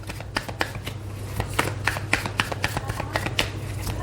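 A deck of tarot cards being shuffled close up, a rapid, fairly steady run of crisp flicking riffles over a low constant hum.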